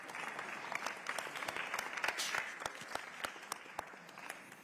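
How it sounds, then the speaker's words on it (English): Applause at a United Nations Habitat Assembly session, a crowd clapping steadily with distinct sharp individual claps cutting through, somewhat distant and moderate in level, building slightly then thinning out. "Let's give her a round of applause, please."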